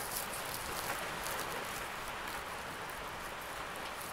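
Steady heavy rain pours down in a dense, even hiss, constant and close, with no voices over it.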